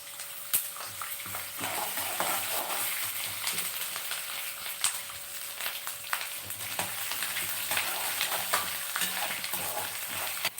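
Green chillies and grated ginger fry in a pan for a rice rava upma, a steady close sizzle with faint stirring scrapes and no talk.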